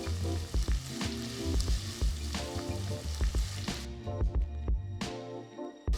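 Onions sizzle and crackle steadily in hot oil for palak pulao, with occasional scraping and stirring of a spoon against the pan.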